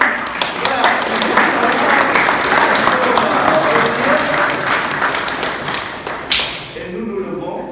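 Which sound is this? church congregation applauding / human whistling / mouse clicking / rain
church congregation applauding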